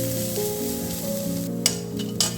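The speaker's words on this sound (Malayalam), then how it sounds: "തേങ്ങ നന്നായി വറുത്തെടുക്കണം." Grated coconut roasting in a pan with onions for chammanthi, a steady dry sizzle with scraping stirs throughout and two sharp clinks of the spoon near the end.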